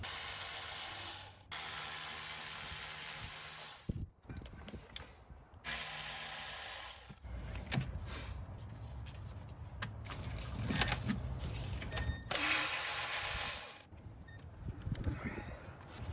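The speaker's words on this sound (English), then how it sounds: "Now I'm going to remove the coil packs. Same thing, they're held onto the valve cover with 10mm bolts." A ratchet backs out the 10mm bolts holding coil packs to the valve cover of a Toyota 3UR-FE 5.7L V8, with several bursts of rapid clicking separated by short pauses and clanks, close and clear.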